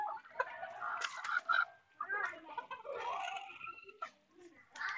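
Chickens cluck and squawk nearby on a Kerala mixed goat and poultry farm, a series of fairly close, irregular clucks and calls.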